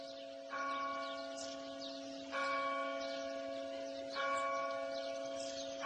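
Church bells ring out at a monastery in a festive peal, three clear bright strikes roughly two seconds apart, each ringing tone lingering and overlapping the next over a faint background hum.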